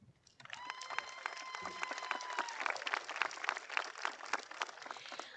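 Sustained applause from a large graduation ceremony crowd for the graduating students, dense clapping that starts abruptly and continues steadily, with faint crowd noise underneath.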